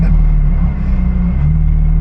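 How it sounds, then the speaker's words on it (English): A car engine roars loudly and steadily up close, a deep heavy rumble that holds for a couple of seconds. "the way that the engine sounds like it's gonna come out of the car"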